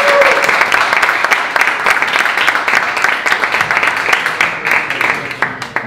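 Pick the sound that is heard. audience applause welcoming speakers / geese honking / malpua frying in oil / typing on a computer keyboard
audience applause welcoming speakers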